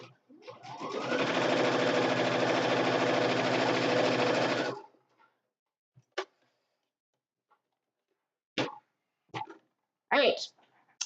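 A sewing machine running a quarter-inch seam through quilt block fabric, a fast steady whir lasting about four seconds, followed by quiet handling clicks and a brief voice.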